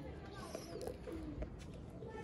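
Chapra pigeons coo softly in low, repeated notes against a dense background hum, close by.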